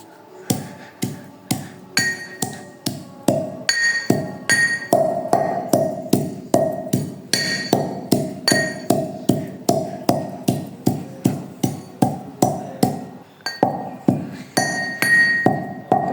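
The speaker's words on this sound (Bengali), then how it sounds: "আগে শুকনো উপকরণগুলো ছেঁচে নেব আমি" Dry ingredients for a home cold remedy are pounded in steady, rhythmic strikes, each a sharp ringing clink that falls off quickly, repeating roughly twice a second, close and loud, with no talk.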